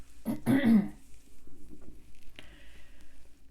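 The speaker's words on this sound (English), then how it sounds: "I get this constant like clearing my throat, feeling, coughing" One person clears their throat once with a rough, close, guttural rasp, followed by quieter shuffling and faint background noise.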